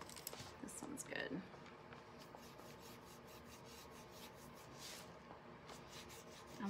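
A paint brush drags over wood, laying on navy blue paint in soft repeated rubbing strokes, faint and close, with a steady scratchy texture and no clear talk.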